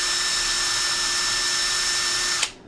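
A power drill set to high speed in drilling mode runs with a steady, loud, high-pitched whine, then stops abruptly near the end and spins down quickly.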